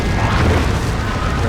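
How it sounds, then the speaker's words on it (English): A Blastmaster weapon in the Warhammer 40k strategy game Dawn of War 2 fires, producing a loud, dense, rumbling blast of noise that fills the short moment. "Decent shot from the Blastmaster there."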